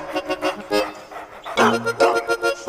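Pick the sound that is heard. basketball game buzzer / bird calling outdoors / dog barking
dog barking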